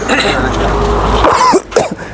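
A deliberate, artificial cough performed during a first-aid and CPR demonstration: a couple of close, forceful throat-clearing bursts that follow a sustained low rumble.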